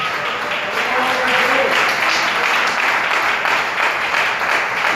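A church congregation on its feet applauding, a dense sustained wash of clapping from many hands that keeps a fairly even level, with a voice faintly present underneath.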